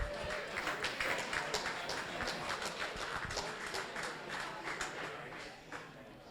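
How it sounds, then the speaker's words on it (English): Applause from the audience at the 2021 Western Australia Landcare Awards ceremony, as Ute Nomad is welcomed: dense, steady clapping from a sizable crowd that carries on for several seconds and then slowly thins out. "Let's give a warm round of applause to Ute Nomad."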